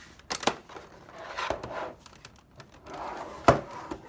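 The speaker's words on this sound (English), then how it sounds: "We're just going to install the cover back on." A PS4 console cover is fitted back on during reassembly after a disc drive repair, giving a few sharp plastic clicks and light knocks spaced apart in a quiet room.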